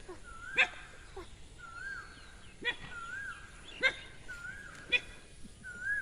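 A small dog gives short yips and whimpering cries, repeating roughly once a second, fairly close and moderately loud against a soft outdoor background.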